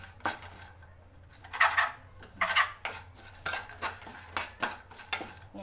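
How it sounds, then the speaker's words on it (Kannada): A spoon stirs grated raw mango with turmeric in a bowl, giving repeated scraping clinks and knocks in an irregular rhythm, close and clear, with no voices. "ಇದನ್ನೆಲ್ಲ ನೀಟಾಗಿ ಮಿಕ್ಸ್ ಮಾಡ್ಕೊಬೇಕು ಇವಾಗ"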